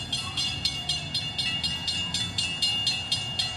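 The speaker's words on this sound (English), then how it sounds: "Tonight, we're going to take a ride on Milwaukee's infamous Ghost Train." Milwaukee's Ghost Train ride rolls along with a rhythmic clickety-clack of wheels, evenly spaced metallic knocks repeating about every quarter second over a steady rumble and a high ringing tone.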